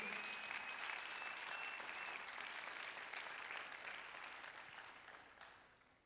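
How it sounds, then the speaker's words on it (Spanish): Church congregation applauds in a dense, even wash of clapping that holds steady, then gradually fades away toward the end, with a faint tone beneath it. "Así dele un aplauso a él, Señor Jesús."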